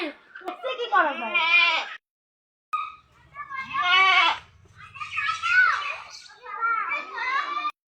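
A goat with a health problem bleats four times in long, wavering, close calls, with children's voices and chatter around it during a vet's home visit.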